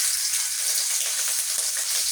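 Chopped garlic frying in a mix of mustard and soybean oil for a sweet raw-mango pickle, a steady hissing sizzle that holds at an even level throughout, with no talk over it.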